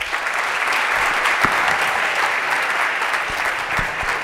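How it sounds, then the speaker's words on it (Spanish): Audience applause for guests introduced on a Chilean debate show, steady dense clapping from a studio crowd sustained over the whole stretch with no voices on top. "Un aplauso, por favor."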